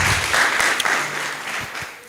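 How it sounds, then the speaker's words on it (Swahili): Loud audience applause at a live ward MCA candidates' debate in Kapropita, Kenya, a dense burst of clapping close by that swells and then tapers off over about two seconds. "Makofi tena kwake."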